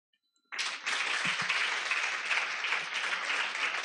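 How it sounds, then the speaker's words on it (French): Sudden burst of audience applause from students at a talk, starting after near-silence and continuing as dense, even clapping from a sizable group, close and loud, with no voices over it. "Apparemment, vous allez applaudir aujourd'hui"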